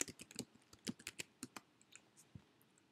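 Typing on a computer keyboard: a quick, irregular run of soft, close key clicks, thinning out toward the end.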